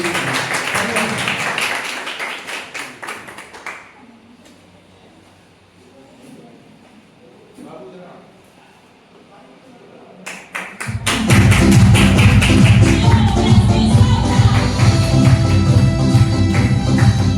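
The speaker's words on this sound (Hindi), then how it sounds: "जोरदार तालियों के साथ स्वागत होना चाहिए हमारे बड़े भैया श्री राम" A large audience at a college function bursts into loud, sustained applause to welcome a speaker, dense clapping that swells after a quieter stretch and holds steady to the end, with some scattered claps and murmur earlier.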